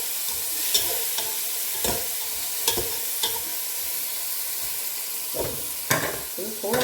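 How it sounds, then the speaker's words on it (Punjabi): Leftover rice with tomatoes frying in a pan, steady sizzle throughout with repeated scraping stirs of a spoon against the pan, close and fairly loud. "ਅਸੀਂ ਉਹ ਵੀ ਥੋੜ੍ਹਾ ਜਿਹਾ ਐਡ ਕਰਾਂਗੇ ਅਤੇ ਬਸ ਥੋੜ੍ਹਾ ਜਿਹਾ ਇਹਨੂੰ ਹਿਲਾ ਲਵਾਂਗੇ"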